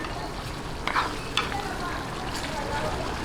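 Pork sizzles and is stirred in a hot pan while cooking pinakbet, a steady frying hiss with a few clinks and scrapes of a utensil, fairly close.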